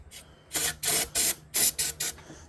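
Carburetor cleaner sprays into the engine of an abandoned Plymouth Neon in about six short, loud hissing bursts, each lasting a fraction of a second with brief gaps between, close up and without talk.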